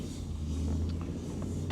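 A car drives along a road around Quartzsite, a steady low engine rumble and road noise heard from inside, with no talking.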